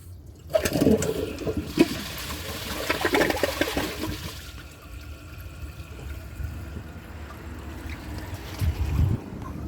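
A 2008 Kohler Wellworth toilet flushes a dish towel: a sudden close whoosh of rushing water that swirls and gurgles down the bowl, then settles into a softer trickling drain.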